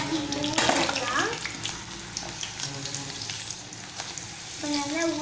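French fries frying in hot oil for a second time make a steady, moderately loud bubbling sizzle, with a voice speaking briefly at the start and again near the end.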